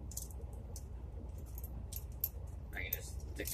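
A set of everyday-carry keys jangles in several short metallic bursts of clinking, close and moderately loud, over a low room rumble, with the final rattle near the end the strongest.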